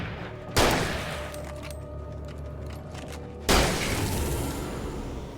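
Two loud gunshots in Alan Wake, each a sharp blast with a decaying echo, spaced about three seconds apart.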